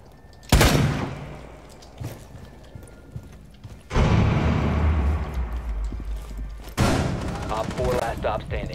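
Loud video game gunshots come in three sudden bursts separated by quieter stretches, each burst a dense rattle of rapid fire, with voices faint in the background.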